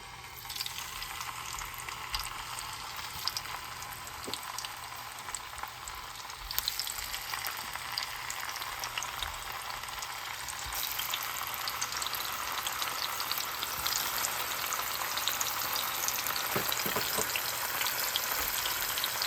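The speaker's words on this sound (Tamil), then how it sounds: "இப்போ சூடாக மீன் பொறிக்க போகிறேன்" Steady loud sizzling and crackling of sardines frying in hot oil, continuous throughout with occasional sharper pops, no voices.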